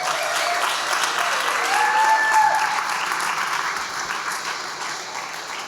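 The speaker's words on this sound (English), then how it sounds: "Can we give them all a round of applause?" An audience claps steadily for several seconds, a dense, even patter that fades slightly toward the end.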